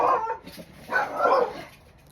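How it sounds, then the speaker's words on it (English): Dogs barking at home before six in the morning, two loud close bursts of barks with a lull between, no talk over them. "my dogs go bark at nothing at whatever time it is before 6 o'clock in the morning"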